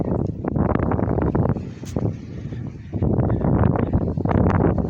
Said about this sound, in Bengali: ওহ, কি আরামের বাতাস